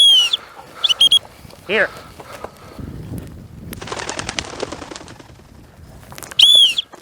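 Wild birds on a Montana prairie give sharp calls and flush with a burst of rapid wing flapping, loud and near, while someone speaks briefly between bursts.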